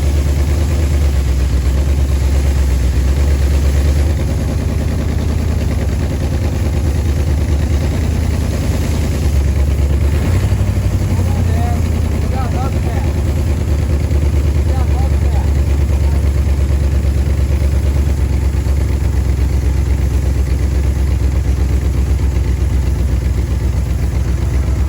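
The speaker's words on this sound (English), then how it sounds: "We got the engine idle for a really long time" A 1956 Ford Fairlane's 292 engine idles steadily and loudly throughout, a constant low mechanical hum with slight vibration and no change in pace.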